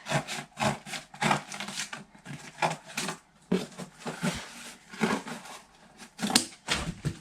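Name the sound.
cutting a piece of cardboard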